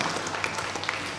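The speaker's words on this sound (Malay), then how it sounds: "kita berikan tepukan kepada Dr." Dense applause from an audience at a panel forum, a steady wash of many overlapping claps heard at moderate distance throughout.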